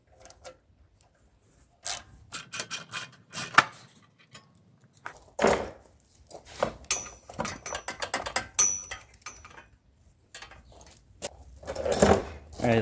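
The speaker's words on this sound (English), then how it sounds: "So I'm going to take this bolt out." Metallic clicks, ratcheting and small clanks come in irregular bursts as a bolt is worked loose from a metal shield near the carburetor of a zero turn mower, close by and with no talk.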